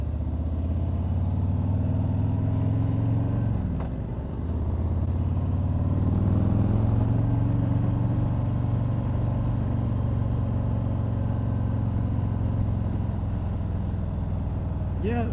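A 2020 Harley-Davidson Street Glide engine drones steadily on the move, a low, even rumble with a brief dip around a gear change, riding under constant wind noise from start to finish.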